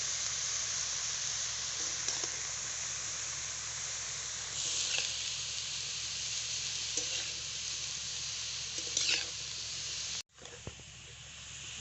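Shredded cabbage for a vegetarian Kashmiri cabbage ghonta cooks in a pan with a continuous hissing sizzle, periodic stirring scrapes, and a brief cut near the end.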